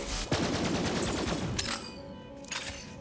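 Rapid automatic gunfire from the Borderlands 3 video game rattles loudly for over a second, followed by a few scattered single shots and a final sharp burst.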